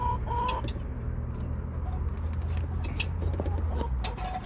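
Chickens clucking steadily around a farmyard feeding spot, with short rooster-like calls and scattered bird chatter over a low continuous hum; no one speaks.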